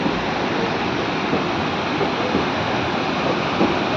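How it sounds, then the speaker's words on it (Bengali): A hill stream or waterfall rushing beside the railway on the way to Silchar, heard from a passing train: a steady, dense roar of water that stays even and continuous throughout, with no voices. "এরকম পাহাড়ের জলধারা স্রোত বয়ে চলেছে"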